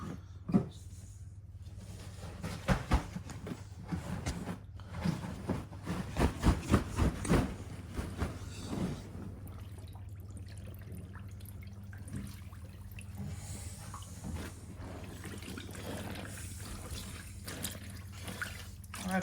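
Daewoo DW900C washing machine rinsing sheets, with sloshing water, drips and splashes that cluster into a louder burst early on and then settle into a steady low hum with occasional small knocks.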